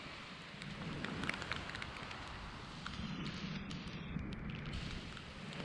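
Rain from Hurricane Ian falls steadily outdoors near a garden with collard plants. It makes a soft, dense hiss with scattered patters of drops throughout and no voices.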